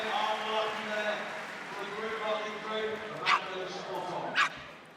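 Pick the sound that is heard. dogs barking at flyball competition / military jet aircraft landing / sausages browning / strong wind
dogs barking at flyball competition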